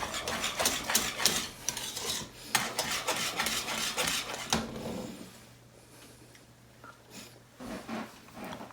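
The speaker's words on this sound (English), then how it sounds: "Give it a good whisk." A whisk beats rapidly against the metal sides of a pot of boiled pasticcio sauce with the heat off, giving close, steady scraping and clinking strokes that slow and stop partway, leaving a low hum and a few faint taps.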